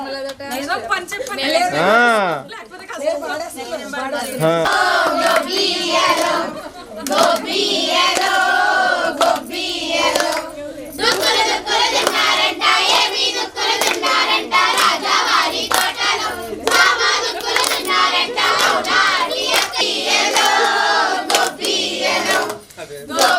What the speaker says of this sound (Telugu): పాట పాడినోళ్ళు కొట్టండి క్లాప్స్